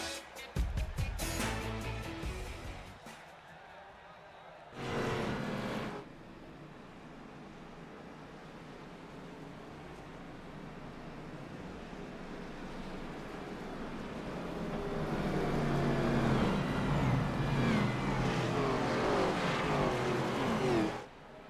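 IROC Challenge Series race cars pacing around the Kansas track before the green flag, engines droning and swelling as the field passes, with a loud close pass early on and a rising roar of several cars toward the end.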